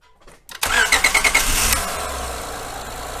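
A Honda J-series V6 fires up with a short cranking burst of rapid starter pulses, catches loudly, and then settles into a steady, fairly loud idle, close by.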